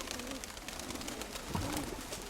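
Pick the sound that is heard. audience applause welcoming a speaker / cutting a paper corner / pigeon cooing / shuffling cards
pigeon cooing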